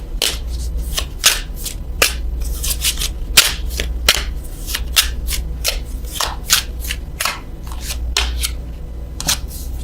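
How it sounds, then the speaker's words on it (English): A French vintage stamp Love Oracle card deck is shuffled by hand, giving repeated sharp riffling snaps and flicks in irregular bursts over a low steady hum, close and fairly loud, with no talking. "I am going to draw a love card from the French vintage stamp Love Oracle."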